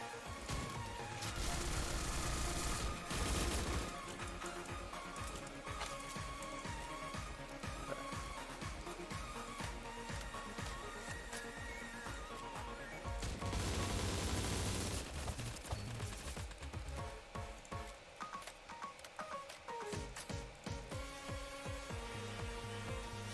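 Sustained gunfire from the online shooter game surviv.io, dense overlapping shots and bursts running almost continuously, loud and close, with a few brief lulls.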